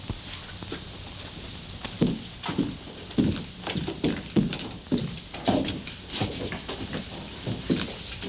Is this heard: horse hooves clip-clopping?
yes